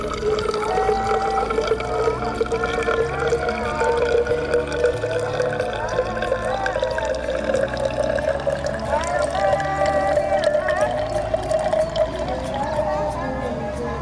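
Collected rainwater poured steadily from a standard WMO rain gauge into a measuring cylinder, a continuous liquid trickle and splash running close by for the whole stretch under a busy background.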